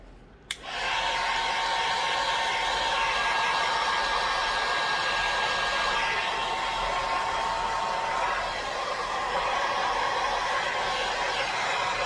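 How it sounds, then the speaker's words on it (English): A hair dryer switches on with a click and blows steadily, a loud continuous airy roar that holds for the whole stretch with no speech. "I'm going to hit it with a hairdryer"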